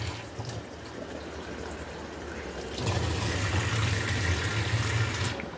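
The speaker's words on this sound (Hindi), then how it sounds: "बहुत गंदा पानी, ये गंदा पानी आ रहा है।" Dirty, sewage-like water runs from a household tap in South Delhi, a steady broadband rush that grows louder and fuller partway through, with no voices.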